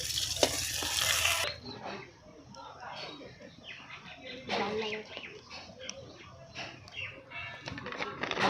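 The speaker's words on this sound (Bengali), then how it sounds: "বেগুনটাও আমি লাল করে ভাজবো।" Eggplant fries in a pan with a faint steady sizzle and occasional stirring scrapes, while a person talks over it.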